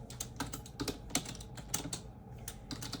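Someone types a short message on a computer keyboard: quick, close clattering keystrokes in an uneven rhythm, with a brief pause midway and no speech.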